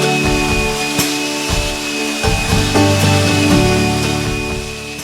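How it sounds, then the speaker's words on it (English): Cured epoxy on a kayak deck is sanded with a steady, continuous abrasive rasping close up, interrupted only by brief shifts of the stroke, with no voices. "After curing, I can sand the deck."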